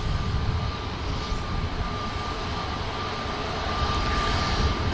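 A Ryanair airliner passes over Manchester Airport, a broad, steady jet roar with a faint high whine holding evenly throughout, with no voices.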